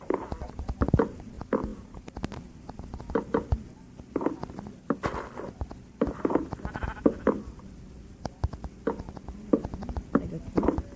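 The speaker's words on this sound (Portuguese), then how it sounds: "Também tem aquela ovelha." Minecraft sheep bleating amid game sounds, repeated short bleats mixed with thumps and clicks at moderate loudness.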